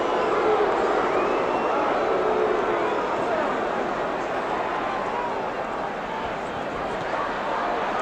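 A boxing crowd at the Muhammad Ali vs Joe Frazier fight roars in a dense, steady wash of massed voices that holds at a constant level throughout, with no single voice standing out.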